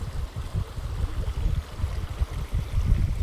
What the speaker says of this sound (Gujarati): હા જુઓ મિત્રો અહીંયા પણ ચાલી રહ્યું છે પાણી. ઉપરેથી પાણી આવી રહ્યું છે.